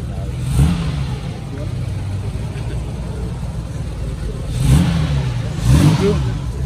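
An Aston Martin DB2/4 at Place Vauban gives a few engine revs that swell and fade over a rumbling idle, under nearby voices.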